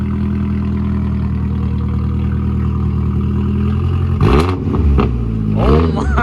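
A Nissan S13 with a new loud exhaust idles close up with a heavy, droning rumble, then blips the throttle in two sharp revs near the end while people talk nearby.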